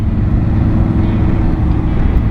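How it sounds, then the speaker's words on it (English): Afternoon road traffic in Las Vegas heard from inside a moving vehicle, a loud, continuous low engine and tyre rumble with steady road roar and no voices. "Hitting some Vegas traffic here."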